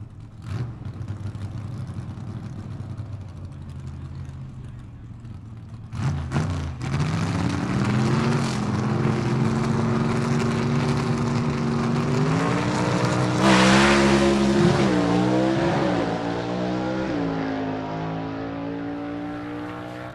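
A gasser drag race car making a solo pass at a B/Gas eliminations event at South Georgia Motorsports Park, engine idling roughly then roaring loud as it launches, climbing through rising revs and gear changes as it speeds away.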